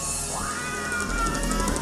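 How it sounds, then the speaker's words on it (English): Cat-like squealing noise from a song, a rising, wailing tone sliding upward over dense, distorted rock noise, loud and continuous with no voices. "It's fucking cat noises, man."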